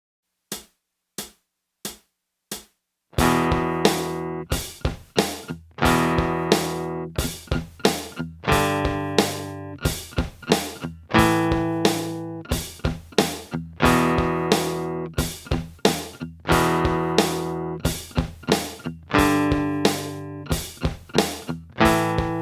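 Palm-muted acoustic guitar chords played at 90 BPM in a heavy rock style, picked close to the bridge. A few muted clicks count in, then short, punchy chord hits follow in a steady, even rhythm with no talk.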